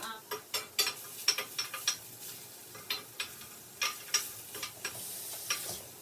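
Onions frying in a pan over medium heat while being stirred, a quiet scraping and clicking of the utensil in irregular short strokes over a faint sizzle, with no one speaking.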